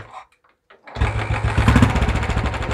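A Royal Enfield Bullet motorcycle engine cranks and catches after a near-silent pause, then settles into a loud, steady thumping idle close by.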